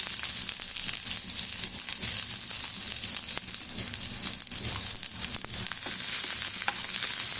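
A medium onion sautés in a little oil in a pan, giving a loud, constant sizzle with occasional scraping stirs, close up and without talk.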